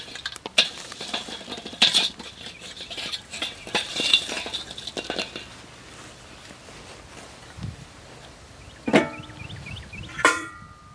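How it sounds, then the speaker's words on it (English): Charcoal coals are raked aside inside an outdoor grill before indirect cooking, heard as scattered metallic scrapes and clinks with pauses between strokes, fairly close, with a couple of sharper knocks near the end. "I'm going to rake these coals to the side"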